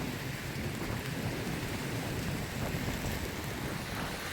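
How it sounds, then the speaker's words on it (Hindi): Rain pours steadily in a dense, even hiss with a low rumble like distant thunder underneath, constant throughout and without voices. "बारिश ऊपर पड़ती है"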